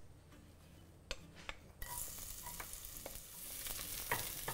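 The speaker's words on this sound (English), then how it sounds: "Fry them around until you can smell them." Thinly sliced shallots fry in oil over medium heat in a non-stick pot. A faint lead-in with a few clinks gives way to a sudden bright sizzle, with stirring knocks and scrapes throughout.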